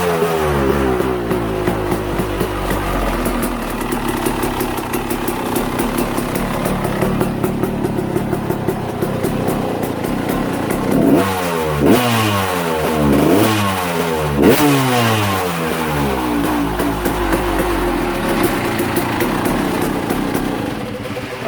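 A KTM 250SX dirt bike engine runs steadily while warming up on a heat cycle, with loud throttle blips and rising revs in the middle. No one speaks.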